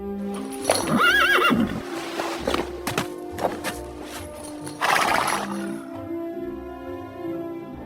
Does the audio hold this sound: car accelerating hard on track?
no